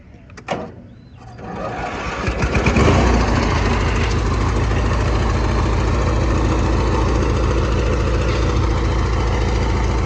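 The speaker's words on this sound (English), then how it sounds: "let's go ahead and get it fired up, and I can show y'all some more. Let's see if it'll start on an idle." A 1994 Craftsman GT6000 riding mower engine cranks briefly, catches and settles into a loud, steady idle with a continuous low throbbing rumble.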